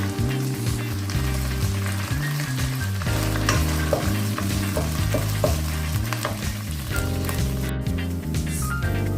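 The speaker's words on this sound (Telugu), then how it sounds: "ఈ ఆనియన్స్ బాగా ఫ్రై అయ్యే వరకు తిప్పుతున్నాం అండి." Onions and mint stirred in a hot pan for veg fried rice give a continuous loud sizzle. Repeated scraping strokes of the spoon run across the pan throughout, close and unbroken by talk.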